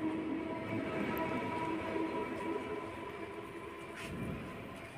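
A Sealdah line local train pulls away from a station platform, its steady rumble and wheel clatter continuing at moderate distance, fairly quiet and gradually easing, with no talking.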